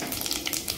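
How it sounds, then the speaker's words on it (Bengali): Cumin seeds sizzle in hot oil, a close, continuous hiss with fine crackling and no pauses. "অয়েল এটা প্রথমে জিরা দিচ্ছি আমি"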